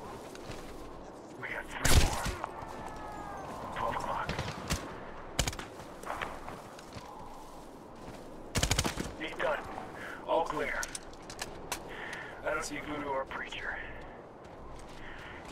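Gunfire in the shooter Medal of Honor (2010), several sharp isolated shots and short bursts scattered across the scene, some loud and close, with people talking quietly and footsteps between the shots.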